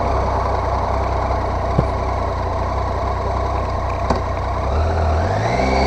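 Triumph Tiger 800 XRx motorcycle pulling away, a steady engine drone under heavy wind rush, with a rising note near the end as it gains speed.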